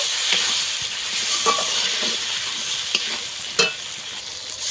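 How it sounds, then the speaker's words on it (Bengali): Paneer masala sautéing in a pan with poppy seed and peanut paste, a steady close sizzle with occasional stirring scrapes and clicks throughout. "পোস্ত আর বাদাম বাটা দিয়ে ভালো করে একটু কষিয়ে নেব"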